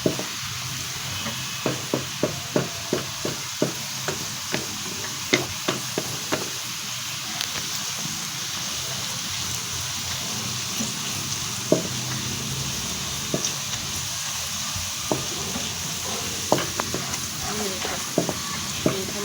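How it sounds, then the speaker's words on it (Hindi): Onions turning golden while frying in a pan for a turnip and pea sabzi, a steady sizzle punctuated by regular sharp spatula scrapes and clicks, close and moderately quiet, with no talking. "ये देखिए प्याज इतनी जल्दी फ्राई होता है ना"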